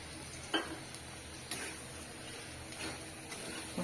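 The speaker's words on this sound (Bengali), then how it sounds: "মশলা ভাজছিস?" Spices with bay leaves and coriander leaves frying in a pan for a fish bhuna, a quiet continuous sizzle broken by a few light ticks and clinks of stirring; no speech.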